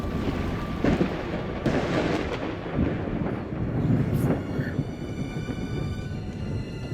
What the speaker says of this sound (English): Also, the rain adds to the eeriness in the dark hallways.